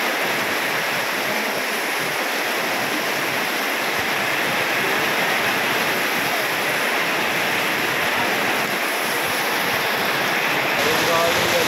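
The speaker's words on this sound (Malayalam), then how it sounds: "സൂപ്പർ മഴ, നാട്ടിൽ വന്ന ആദ്യത്തെ മഴ എത്രയും മഴ, ഭയങ്കര മഴയാണ്" Heavy first-monsoon rain pours behind a village toddy shop in Kerala, a dense, unbroken roar of water that stays loud and close for the whole stretch, with no gaps or lulls.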